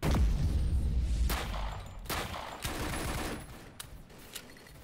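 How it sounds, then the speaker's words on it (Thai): Gunfire from the online shooter XSHOT comes in loud, rapid bursts of shots and blasts over a dense, roaring game background. It is heavy at the start and thins out toward the end, with no speech. "กระสุนจะหมดแล้วครับยิงเล่นเยอะไปนะ"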